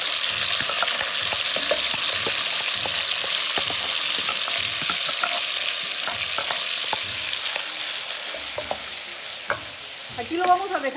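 Very thin cubed beef steak fillets sear in a pan with little fat, giving a steady loud sizzle broken by frequent clicks and scrapes of stirring, easing slightly toward the end.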